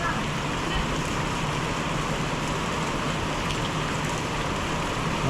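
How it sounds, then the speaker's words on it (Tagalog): Heavy rain falling on a jackfruit farm, a loud, steady, dense downpour hissing and pattering without pause throughout. "Okay, grabe ulan."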